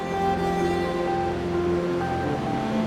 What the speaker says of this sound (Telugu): ఈ వాటర్ ఫాల్స్ యొక్క శబ్దం నాకు చాలా దూరం నుండే వినిపిస్తూ ఉందన్నమాట.